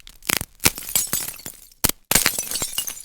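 Glass-like burger being bitten and crunched, a series of sharp, close cracking and crackling bursts separated by short pauses, with no speech.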